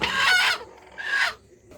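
Country chickens in a small poultry farm with a five-tier coop, giving two loud, close clucking and crowing bursts separated by a short pause, with no speech.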